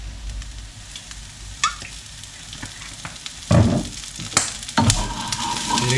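Shrimp, garlic and parsley filling frying in olive oil in a pan, with a steady close sizzle and several louder scraping stirs of a utensil through the mixture.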